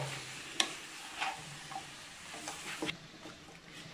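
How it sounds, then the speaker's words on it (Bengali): Bottle gourd greens stirred in a pan with a little water, turmeric and salt, giving soft scraping and clinking strokes at an irregular pace, with faint sizzling beneath. "এবার আমি একটু নাড়াচাড়া করে দেব"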